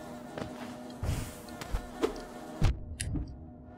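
Buzzing flying insect enemies in the Hollow Knight video game: a steady insect drone with periodic louder thumps and hits from the game, no talking.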